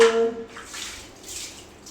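Water is poured over a baby during a bath in a few short splashing bursts close by, with quiet gaps between them.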